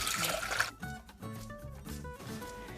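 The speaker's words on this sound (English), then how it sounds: "We're going to place 5 cups of water into a saucepan." Water poured into a saucepan to make turmeric ginger tea: a short, loud, splashy pour lasting under a second, then it gives way to background music with no talking.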